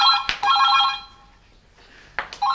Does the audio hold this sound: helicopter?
no